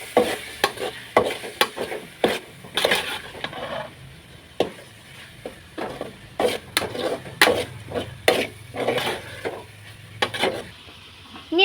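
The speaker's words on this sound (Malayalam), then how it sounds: "നമുക്കിപ്പം ഇളക്കി കൊടുക്കാം." Crushed ingredients stirred in a frying pan, a soft sizzle under repeated loud scraping and clacking strokes of a spoon against the pan, in an irregular rhythm.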